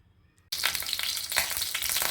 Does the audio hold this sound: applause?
no